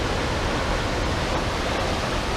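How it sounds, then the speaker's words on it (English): Steady roar of water plunging off a cliff at Duden Waterfalls in Turkey toward the Mediterranean Sea, a dense, continuous rush that fills the whole clip with no voices. "the current of the water from the cliff all the way down to the Mediterranean Sea"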